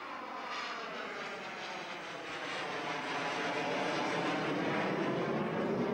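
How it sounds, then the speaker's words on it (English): F-5 fighter jet landing on a rough secondary runway: a loud, broad jet roar with a wavering, sweeping tone that grows slightly louder, continuous with no talking. "This is an F-5 demonstrating its ability to use a very secondary type runway."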